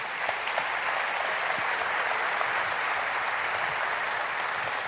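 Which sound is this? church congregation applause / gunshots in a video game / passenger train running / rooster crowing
church congregation applause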